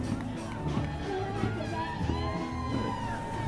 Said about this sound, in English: You can hear some cheers coming from the crowd